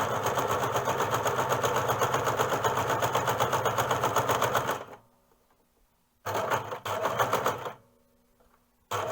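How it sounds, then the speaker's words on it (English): A sewing machine runs a straight stitch at length 3, a steady rapid mechanical whir and chatter for several seconds, stopping abruptly, then restarting in a short burst and pausing again before a final brief start. "I have my stitch length on 3. I have a straight stitch,"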